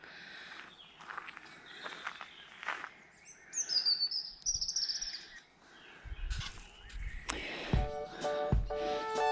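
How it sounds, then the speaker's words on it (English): Birdsong drifts through Westonbirt Arboretum near Tetbury, Gloucestershire, with scattered chirps and calls at moderate distance, some brighter trills rising in the middle, and a few soft footsteps or rustles close by. "and just birds, it's just beautiful"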